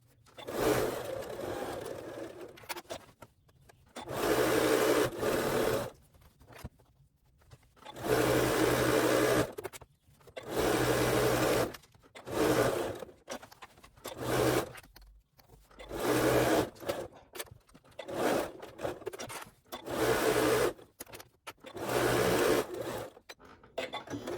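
A sewing machine stitching a fabric origami bag runs in repeated bursts of whirring, separated by short pauses as the work is turned, loud and close with no talking.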